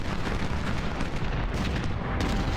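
Continuous rumbling battle gunfire and artillery booms from the Ultimate General Civil War strategy game at Second Bull Run, a dense, loud barrage of volleys rolling on without pause.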